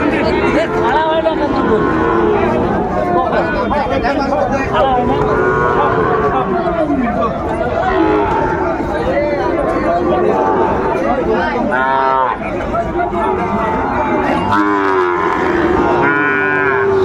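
At a busy cattle market in Cumilla, a Sahiwal bull calf and other cattle moo repeatedly amid a dense crowd babble, with people talking loudly nearby throughout.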